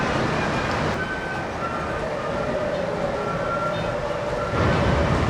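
A model train display at the AACA Museum in Hershey, Pennsylvania runs with a steady rumbling, clattering rail noise like a small train in motion, with a faint whine riding on top and no voices.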